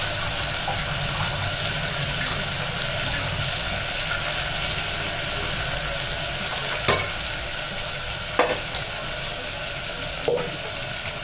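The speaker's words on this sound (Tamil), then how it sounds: "புளி தண்ணியை அதில் ஊற்றி வடிகட்டி ஊற்றிக்குவோம்" Tamarind water pouring steadily through a strainer with a constant hissing, trickling wash, interrupted by a few faint clinks and taps of a utensil.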